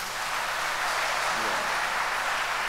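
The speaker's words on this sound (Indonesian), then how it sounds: "Tepuk tangan" A church congregation at a Mass applauds a deacon, with a dense, continuous wash of many hands clapping that fills the space at an even level throughout.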